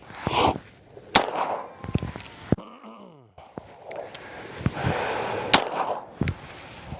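Pistol shots from an OA Defense 2311 Pro Elite, a series of about eight sharp, loud reports at uneven intervals close by, with a brief electronic chirp near the middle.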